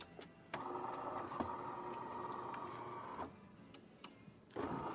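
A DeLonghi espresso machine runs a test shot after a full service and deep clean, a steady close pump drone that cuts out briefly and restarts, with small clicks and no talk.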